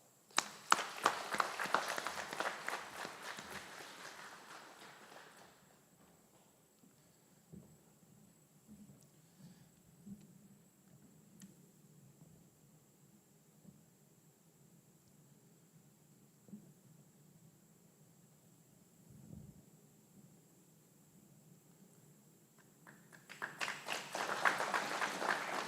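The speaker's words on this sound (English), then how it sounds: "Please join me in a round of applause." Audience applause at a military aviation brigade graduation ceremony at Fort Eustis: a strong wave of clapping fades out, a long stretch of quiet room sound with scattered small noises follows, then another burst of clapping rises near the end.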